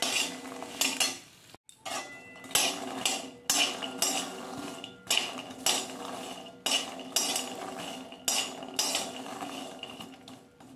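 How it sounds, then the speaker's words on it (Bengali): Makhana (fox nuts) being stirred while frying in a pan over low heat, a run of close metallic scrapes and clinks as a spoon works the pan, repeating every second or so with no talking. "মাখানাটা ভাজা হয়েছে কিনা আমি একবার দেখে নেব।"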